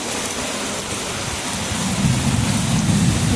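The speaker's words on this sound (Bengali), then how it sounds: "আমি বলেছিলাম বৃষ্টি হলে দেখাবো বৃষ্টিটা সুন্দর সুন্দর" Heavy rain roars steadily while thunder rumbles low underneath, swelling louder in the second half; no voices are heard.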